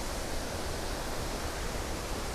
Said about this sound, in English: We've seen quite a few waterfalls already, but wow.